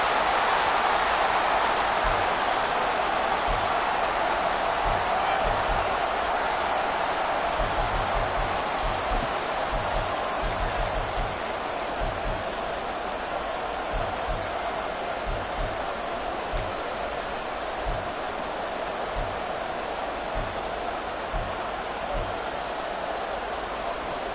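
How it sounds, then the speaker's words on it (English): Crowd at an American football game late in a close contest, a steady, distant roar of cheering and noise that holds throughout, with a broadcast commentator talking over it. "This crowd doing all they can."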